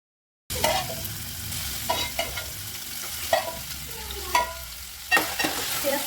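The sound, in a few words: marinated prawns frying in oil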